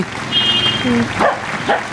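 A dog gives a few short barks and yips close by, with a person's voice briefly underneath.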